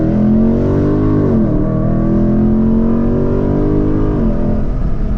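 Dodge Scat Pack engine roaring loud and steady as the car accelerates hard from a 40 mph roll, heard from inside with the window down, the engine note dipping twice as the gears shift.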